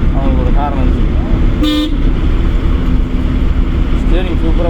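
A car horn gives one short, sharp honk during a driving lesson with a driving-school instructor, sounding clearly over the low rumble of the moving car while voices talk around it.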